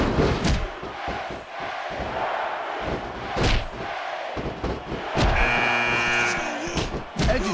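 Arena crowd cheering and roaring during a 30-man Royal Rumble match in the WWE SmackDown vs. Raw 2006 video game, a loud continuous swell with thuds and slams, cheering rising sharply near the end.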